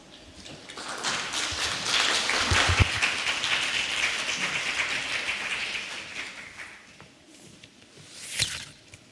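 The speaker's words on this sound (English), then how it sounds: "Please welcome him with a big round of applause." Audience applause welcoming a speaker at an ambassador forum, a dense wash of clapping that rises quickly, holds steady for several seconds, then fades out, with a brief knock near the end.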